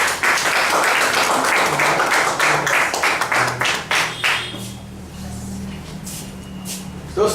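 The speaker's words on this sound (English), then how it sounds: "Give a big round of applause." An audience at a Toastmasters session applauds the evaluator with dense, loud clapping that thins into a few scattered claps and fades over several seconds, leaving a low room hum and faint shuffling.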